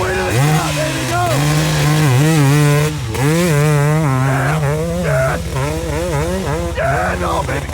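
A dirt bike engine revs hard and steadily while climbing a hill at a hillclimb event, loud and close with rising and falling pitch throughout, and some crowd voices faintly underneath.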